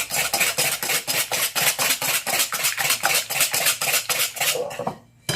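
Oil and sugar muffin batter mixed with a spoon in a bowl, fast rhythmic scraping strokes clinking against the sides at a steady even pace, then a brief pause at the end.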